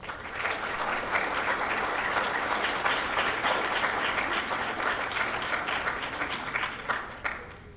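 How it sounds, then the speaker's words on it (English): At a high school choice awards ceremony, the audience gives the supporters a round of applause, a full, continuous burst of clapping from a large crowd that swells, holds and thins slightly near the end, with a few distinct claps standing out. "Please give our supporters a round of applause."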